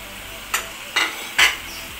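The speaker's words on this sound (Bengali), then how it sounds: "দিয়ে ভালো করে নাড়াচাড়া করব।" Ground radhuni spice is stirred into a shukto of ridge gourd, eggplant and boal fish head in a hot pan: three distinct scraping strokes over a low, steady sizzle, close by.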